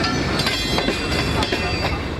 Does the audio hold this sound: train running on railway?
yes